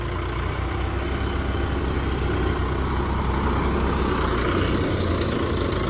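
A farm tractor engine runs steadily at close range, a constant low diesel rumble with no change in pace throughout.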